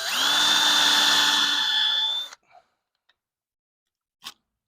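A power drill bores holes to mount a security camera, a loud steady whir for about two seconds that cuts off abruptly, followed by a few faint clicks and one short tap.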